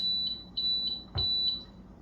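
An electric pressure cooker used for canning ham and bean soup beeps with a high, steady tone repeated about five times in quick succession, close and clear, with a single thump partway through and no talking.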